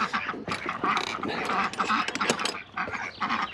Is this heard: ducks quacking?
yes